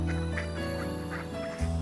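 Ducks quack at Homersfield Lake during hot weather, a string of several close, rhythmic quacks over a steady low hum.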